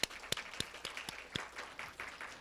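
Sparse, scattered hand claps from a small audience at a Korean YWCA youth financial-education event, a handful of sharp separate claps rather than a full ovation, fairly faint and thin.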